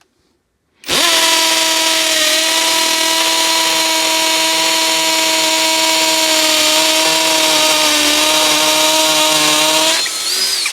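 Aldi 40V cordless combi drill running in hammer mode, starting abruptly into a loud, steady high-pitched whine with a fast hammering buzz, held for about nine seconds before stopping.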